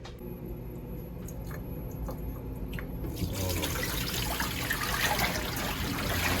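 Water leaks from a 3D printed dumbbell handle as a steady close trickle that grows fuller and louder partway through, with no talk.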